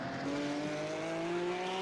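Porsche Cup race car engine in an esports racing game, a steady, loud, close drone whose pitch climbs slowly as the car accelerates, with no talk over it.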